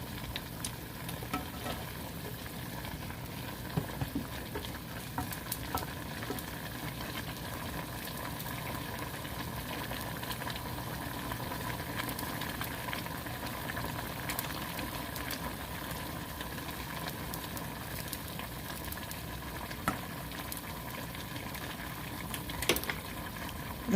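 Tuna fish simmering in paksiw broth on a stove, a steady low bubbling and sizzling that carries on evenly throughout with occasional faint clicks, close and moderately quiet.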